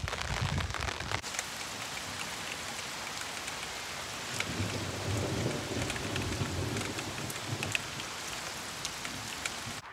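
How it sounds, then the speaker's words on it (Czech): A thunderstorm outside Prague, with steady rain hissing on surfaces and low thunder rumbling in the distance, fairly faint and without talk. "Bouřka."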